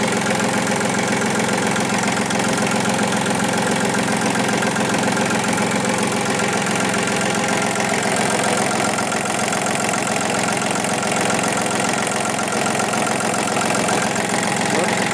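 A Japanese Iseki TU-225 tractor idles close by with a loud, steady diesel rumble and faint knocking that holds unchanged throughout.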